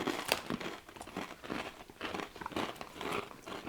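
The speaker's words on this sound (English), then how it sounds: "Nice crunch." Loud, close crunching of rolled corn chips shaped like narrow rolled-up tortilla chips, with repeated crisp bites and crackling chews in an irregular rhythm.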